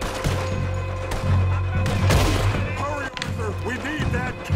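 Gunshots fire in the Western video game Red Dead Redemption 2, a few sharp bangs spread over several seconds amid busy game sound and a voice talking.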